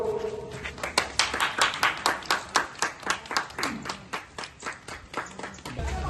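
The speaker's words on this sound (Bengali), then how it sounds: "তো হাততালি হোক" A crowd at a blood donation event claps in a quick, fairly even rhythm for about six seconds. The applause is loud and close, then tapers off at the end.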